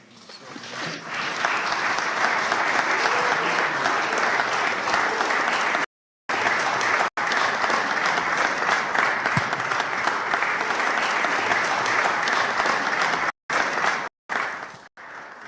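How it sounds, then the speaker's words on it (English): Sustained, dense applause from a conference audience, loud and even for several seconds, broken by a few abrupt cuts before fading near the end. "Give her a wonderful hand clap."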